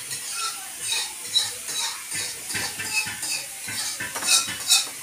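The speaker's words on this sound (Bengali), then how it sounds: "মাতাজি রান্না করছেন" Pots and metal utensils clatter and scrape as food is stirred in a temple kitchen, with steady close clinks and a soft sizzle running underneath throughout.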